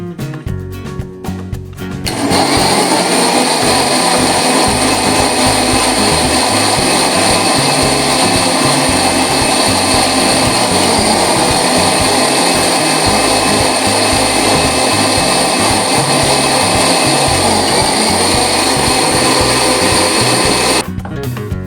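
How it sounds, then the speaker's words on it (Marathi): A kitchen mixer grinder blends a strawberry milkshake, starting after a short pause and running as a loud, steady whirring drone for nearly twenty seconds before cutting off. "त्यानंतर मिक्सरमध्ये मिल्कशेक बनवून घेऊ"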